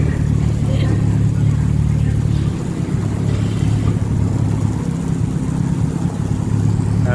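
A heavily modified Toyota TA22 Celica accelerating hard, its engine droning loud and steady close by without letting up.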